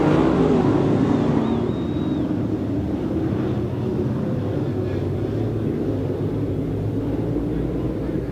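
Super late model race cars roaring around a dirt speedway at the green flag of a heat race, a steady distant engine drone with a crowd-wide wash of noise throughout.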